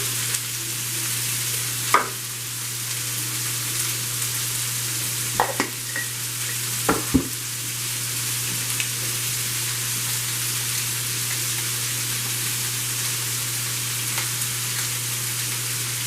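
Italian sausages frying in a pan give a continuous close hiss and sizzle, broken by a few brief clicks and scrapes from a utensil.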